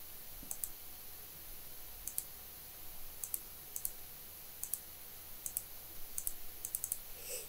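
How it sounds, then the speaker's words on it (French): Calculator buttons pressed in quick irregular taps, about a dozen faint, sharp clicks spread across the stretch with a soft background hiss and no talking. "je le tape à la calculatrice"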